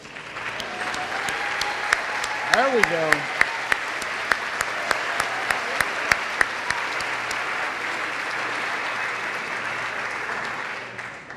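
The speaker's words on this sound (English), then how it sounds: "Please stand so we can show our appreciation with a round of applause." Audience applause for dairy farmers at a dairy festival pageant, a steady wash of clapping that swells and holds for about ten seconds, with a brief voice and a few whoops early on.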